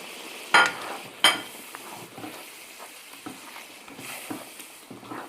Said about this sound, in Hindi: अब मैं मसाले को अच्छी तरह भून लूँगा